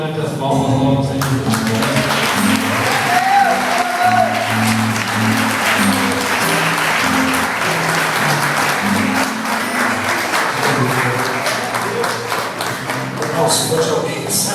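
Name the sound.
congregation applauding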